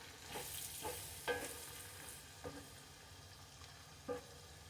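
Potatoes fry in a very hot pan of oil, giving a steady broadband sizzle with several brief louder bursts as they are stirred or shifted, close and alone without talk.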